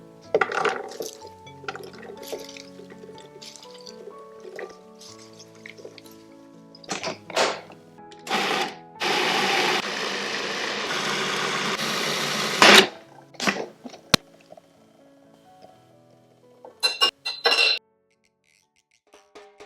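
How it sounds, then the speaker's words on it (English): A loud motor whir runs for a few seconds as a food processor blends seasoning, between clinks, taps and music-like tones; the machine cuts off abruptly. "We'll place everything in the food processor."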